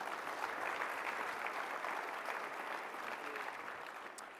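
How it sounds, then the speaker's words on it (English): An audience applauds panelists at a leadership panel event, a dense, steady clapping that holds for several seconds and tapers slightly at the end. "How about a big round of applause for today's panelists?"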